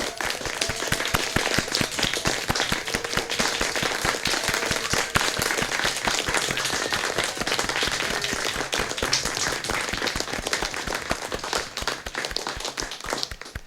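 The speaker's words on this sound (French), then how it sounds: "applaudissements comme chaque soir" A church congregation applauds at the start of an evening Compline prayer service, dense steady clapping from many hands, close and loud, sustained without a break.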